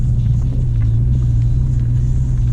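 A manual Dodge Challenger rolls along in first gear, its engine giving a steady, close, low rumble with no revving swells.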